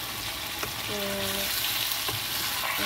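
Meat sizzling steadily as it is sautéed in a frying pan, a continuous close crackle with a few brief scraping stirs and a short tonal hum partway through.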